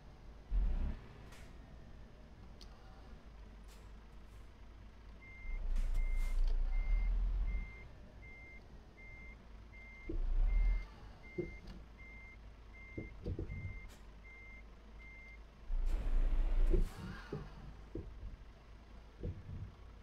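In Euro Truck Simulator 2, a truck parking near Kiel sounds a steady series of reversing beeps over a low engine rumble, with occasional louder thumps and hisses.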